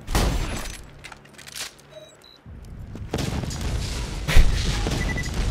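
Explosions in the video game Borderlands 2, a vehicle blown up amid heavy booming blasts and crashing debris, loud and dense, with bursts of gunfire-like impacts recurring across the stretch.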